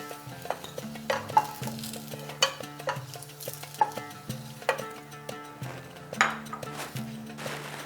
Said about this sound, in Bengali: দেখুন আস্তে আস্তে আলুটা ভাজতে ভাজতে যখন বেশ লালচে কালার এসেছে, ঠিক সেই সময় তুলে নিচ্ছি